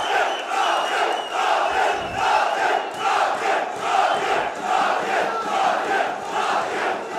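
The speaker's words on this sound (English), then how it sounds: "It's as if as every fight goes on, this crowd gets more rowdy" A rowdy crowd of boxing fans shouts continuously around the ring at an amateur fight night in Bradford, a loud, dense roar rising and falling in waves with no let-up.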